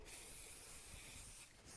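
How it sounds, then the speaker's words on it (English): Cooking spray hissing onto a baking tray for festive gingerbread, one steady continuous spray lasting under two seconds, close and fairly quiet with no talking. "cooking spray."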